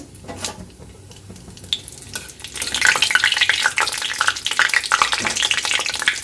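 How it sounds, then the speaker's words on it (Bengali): Cumin seeds and a bay leaf sizzle in hot oil, crackling softly at first and then growing into a busy, close frying hiss with scraping stirs throughout. "এবার আমি সাদা জিরে দিয়ে দিচ্ছি আর দিয়ে দেবো তেজপাতাটা একটু নেড়ে চেড়ে নিয়ে"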